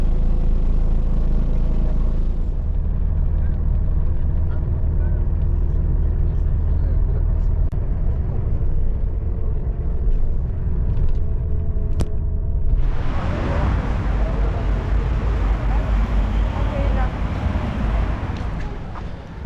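A city bus from the airport in Albania rumbles along with a low engine drone and road noise, and a heavy rush of wind bursts in partway through.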